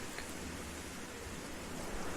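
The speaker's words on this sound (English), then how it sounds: "The heavy rain can be heard far and wide, evoking a feeling of sadness." Heavy rain falls at night in a forest near a town, a dense, even hiss of steady downpour with no distinct drops or breaks, fairly faint and uninterrupted.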